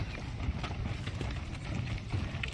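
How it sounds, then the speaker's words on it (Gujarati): A camel hauling a heavy load plods along a road on a pilgrimage walk, its soft, uneven footfalls faint beneath steady wind and outdoor rumble. "આટલો વજન લઈને દોરે છે ઊંટ"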